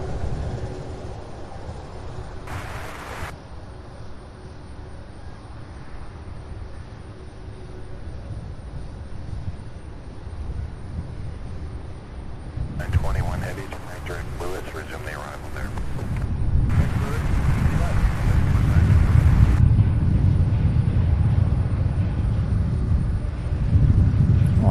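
A jet taxiing toward a parking ramp at Louisville airport, a low rumbling engine drone that swells louder toward the end, with wind buffeting the microphone and someone talking over the noise.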